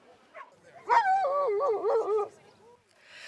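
A dog howls in a long wavering, singing tone at an outdoor stadium dog competition, with short yips before it. Talk and crowd murmur run underneath.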